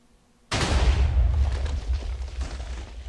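A TNT cannon fires in a video game, a firework cannon setup: silence, then one sudden loud boom that rolls into a sustained, rumbling roar of debris, with no talking.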